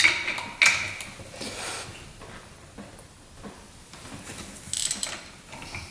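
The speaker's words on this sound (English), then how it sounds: "third step is going to be to loosen all the fasteners until they're unseated." A ratchet loosening fasteners on a broken-down UTV, with quick bursts of close clicking pawl ratcheting at the start and again near the end, separated by quieter shuffling handling sounds.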